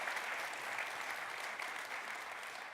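Audience at a community council forum on a cold night gives steady, sustained applause throughout, a dense even patter of many hands.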